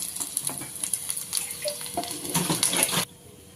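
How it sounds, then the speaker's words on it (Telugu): Onion pieces sizzle in hot oil in a pan with bursts of crackling and stirring clatter, then the sound cuts off abruptly into quiet. "తర్వాత అదే ప్యాన్లో ఆనియన్స్ ముక్కలు వేసుకొని ఫ్రై చేసుకోవాలి"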